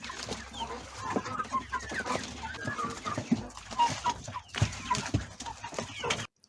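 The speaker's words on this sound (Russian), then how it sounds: "Накормила я своих цыплят заодно." Several chickens and chicks cluck and chatter softly and continuously nearby while eating oats and cabbage leaves, with scratching and pecking sounds mixed in.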